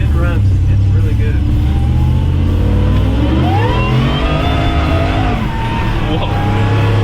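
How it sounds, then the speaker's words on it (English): A supercharged Ford truck accelerates hard, its engine roaring loud and close while the supercharger whine climbs steadily in pitch; voices can be heard over the engine. "the supercharger is winding so good"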